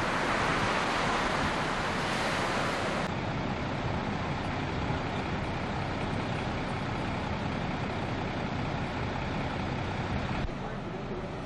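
Atlantic surf and wind at Bathsheba on the east coast of Barbados, a steady, loud broadband roar of breaking waves and gusting wind that runs continuously throughout, with no voices.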